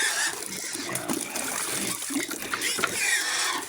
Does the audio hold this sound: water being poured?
yes